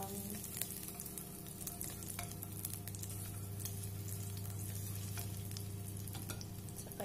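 Garlic fries in oil for simple fried rice with a steady, close crackling sizzle and occasional stirring clicks, no voices over it.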